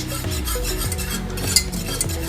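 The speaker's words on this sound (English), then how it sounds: "Just continue stirring, guys, until this will totally be thickened." A thickening mixture for veggie balls is stirred continuously in a pot, with a soft steady scraping and bubbling texture and an occasional spoon clink, close and moderately loud with no talking.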